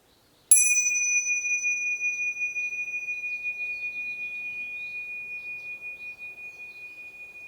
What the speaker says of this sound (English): for who the bell tolls, and really feel this reverberate through your essence